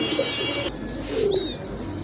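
Pigeons coo close by in a few low, throaty phrases, with faint chirps above a steady background murmur.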